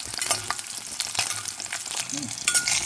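Four or five green chillies fry in a pan for brinjal chutney, a steady close sizzle with scattered sharp pops and a brief scrape of stirring.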